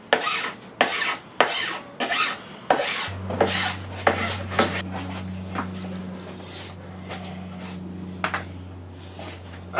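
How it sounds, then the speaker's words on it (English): A hand file rasps along the edge of melamine edge banding on a cabinet board. Rhythmic, close, scraping strokes repeat steadily, with a low steady hum in the background for most of the time. "So work your file into the board, not away, into the board."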